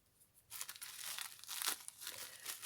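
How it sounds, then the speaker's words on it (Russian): A plastic shopping bag is cut with scissors and handled, its handles and end trimmed off, giving bursts of close, crisp crinkling and rustling that swell and fade in a quiet room without talk. "Ручки и этот конец мы обрезаем и освобождаем, собственно говоря, пакет"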